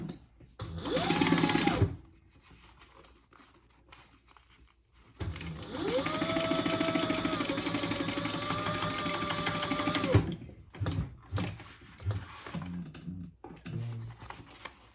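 A sewing machine top stitching a crossbody bag runs in two bursts, a short one and then a longer steady whir, each ending abruptly, with quiet clicks and handling noises between them.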